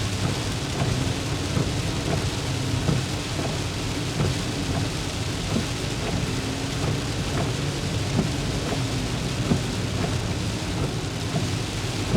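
Heavy rain pours steadily and loudly throughout, with low thunder rumbling beneath the dense downpour and no voices.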